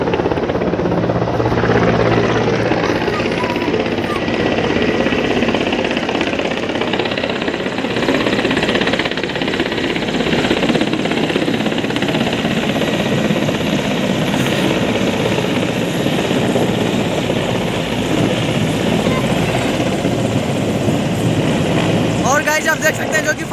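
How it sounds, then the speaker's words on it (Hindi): A landed helicopter at Ghazipur keeps its rotor and engine running, a loud continuous thudding roar throughout, with people talking underneath. "आप उधर देख सकते हैं जो फाइनली हेलीकॉप्टर जो लैंड कर चुकी है"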